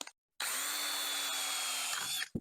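A power drill whirs steadily for about two seconds, bit grinding into wood with a constant high whine, then stops.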